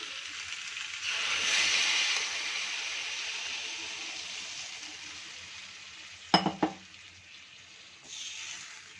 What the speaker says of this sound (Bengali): এবার আমি জল দিয়ে দিচ্ছি, উষ্ণ গরম জল।